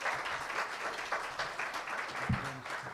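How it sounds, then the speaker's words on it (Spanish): Audience applause at a talk on ceramic finds from archaeological excavations, dense steady clapping from a room of people throughout, fairly close and continuous. "Fuerte aplauso, por favor"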